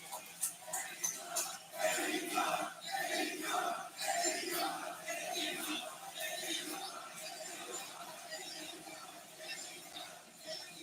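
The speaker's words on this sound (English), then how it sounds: "And listen to this crowd. Newark, New Jersey is on its feet." A wrestling arena crowd in Newark, New Jersey is on its feet, cheering and screaming at a pro wrestling pay-per-view. The roar stays dense and sustained the whole time, with high shrieks and whistles rising out of it.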